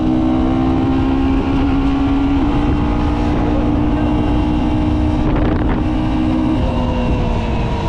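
A 2025 KTM Duke 125 motorcycle engine drones steadily and loud at close range with a constant tone and heavy wind rush, with a brief rev change near the end.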